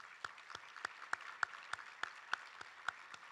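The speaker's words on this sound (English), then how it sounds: "You guys deserve a round of applause" A small group at a community breakfast claps for the sponsors, quiet and sparse, with one distinct set of hand claps landing in a steady rhythm over a soft background of other clapping.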